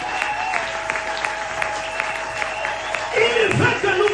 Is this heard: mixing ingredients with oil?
no